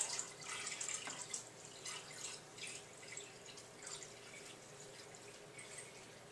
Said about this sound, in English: I'm just going to carefully pour it into my fish tank